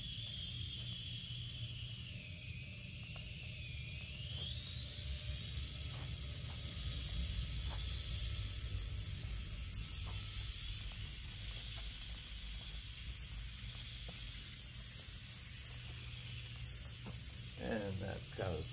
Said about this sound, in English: drive it at different speeds just to show you what it sounds like. A little bit of gear whine, not bad.